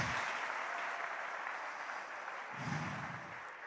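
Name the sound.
congregation applauding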